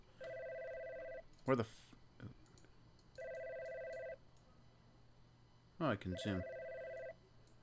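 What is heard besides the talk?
telephone ringing in video game God's Basement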